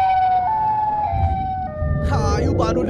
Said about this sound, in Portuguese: Olha o barulho da sirene.